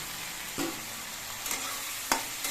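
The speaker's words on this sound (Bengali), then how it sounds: "নুন হলুদ ভালো করে মিশিয়ে নিতে হবে কড়মা মশলার সঙ্গে" Karonda fruit pickle being stirred with oil, salt and turmeric, giving a soft, steady background texture with a few brief scraping clicks of the spoon against the pan, close and fairly quiet, no talking.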